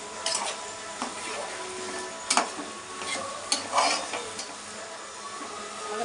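Raw mango pieces drop into an eggplant curry in a pan, with faint sizzling, a few clinks of a utensil against the pot, and soft stirring scrapes.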